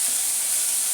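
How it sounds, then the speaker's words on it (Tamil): Sliced onions hit hot oil for a Tamil-style kohlrabi (knol khol) masala gravy, giving a loud, steady, even hiss of sizzling that holds unbroken throughout. "இப்போ எண்ணெய் காஞ்ச உடனே வெங்காயம் சேர்த்துருக்கேன்"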